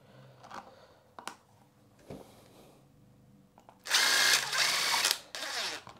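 A power driver sets M3 by 20mm screws into a clock/chrono assembly for a 737 cockpit build, heard as a loud buzzing run of about a second, then a second shorter burst, after faint clicks and handling taps.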